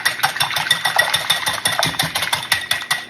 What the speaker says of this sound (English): I'm going to whisk these until their yolk is completely mixed with the white